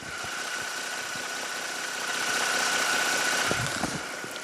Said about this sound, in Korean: 그래도 엔진 소리 바로 들려드릴게요